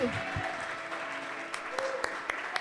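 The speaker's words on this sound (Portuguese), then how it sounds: "Dê uma salva de palmas ao Senhor Deus Todo-Poderoso." Congregation clapping during an online church worship service, steady applause with a few sharper claps standing out, under a voice speaking and faint tonal music in the background.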